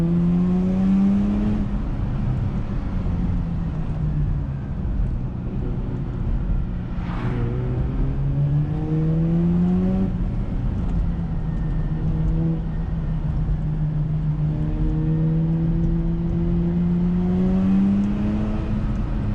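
Mazda RX8 Spirit R rotary engine revving hard on a drive in Japan, heard from inside the car: loud, smooth rising pitch sweeps through repeated gear changes, continuous and close.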